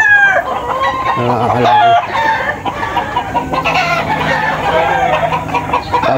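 Roosters at a gamefowl farm crow loudly and cluck close by, with overlapping calls running throughout and a voice talking briefly over them.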